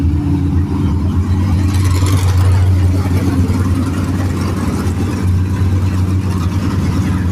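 Stock cars roar past at a race track, a loud, continuous low engine drone that swells and fades slightly as the cars go by, with no talk over it.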